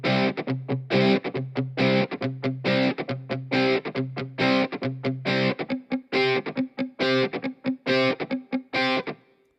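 Distorted electric guitar power chords from a rock strumming MIDI pack on an Ample Sound virtual guitar, struck in a choppy, rhythmic pattern of short and sustained hits, loud and up front.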